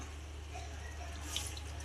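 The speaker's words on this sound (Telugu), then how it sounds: "ఈ విధంగా పిండుకున్నాము ఈ వాటర్ ఇప్పుడు దీంట్లో వేసుకుంటామా" Tamarind water is poured into a pot of bocha fish curry, a faint, continuous liquid trickle and splash over a low background hum.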